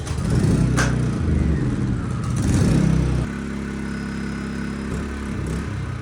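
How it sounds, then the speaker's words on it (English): A gas generator runs steadily at an off-grid log cabin in cold weather, a loud, close engine drone that drops to a slightly lower, steady hum partway through. "see if we can get it charged with the generator"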